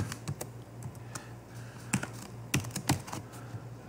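Quiet, irregular clicks of typing on a computer keyboard, as a name is entered, with a few louder key taps near the end over a low steady hum.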